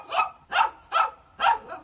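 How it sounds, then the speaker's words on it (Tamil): A puppy barks four times in a steady, evenly spaced series, close and loud with short pauses between, no talking over it. "பாத்தியா, அவனை திட்டுறானா, அதான் குலைச்சிட்டு போகுது."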